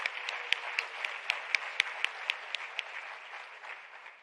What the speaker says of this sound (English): A round of applause for Ms. Honadi.